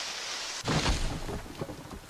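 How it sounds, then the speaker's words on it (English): Thunder and rain in the survival game Forest: a sharp thunderclap breaks out, then rumbles and fades over a steady hiss of rainfall. "Oh, great. It's raining."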